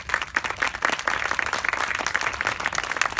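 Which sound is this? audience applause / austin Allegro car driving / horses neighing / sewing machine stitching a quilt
audience applause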